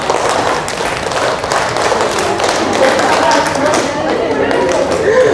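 A group of women clapping in a rhythmic counting game, dense overlapping claps throughout, loud and close with some voices mixed in.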